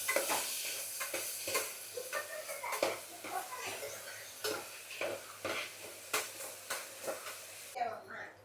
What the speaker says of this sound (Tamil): காஞ்சதுமே எதுவும் போட வேண்டாம், டேரெக்டாக நல்லா வந்து வதக்கிடணும்.